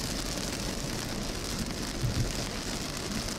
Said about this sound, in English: and all I hear is rain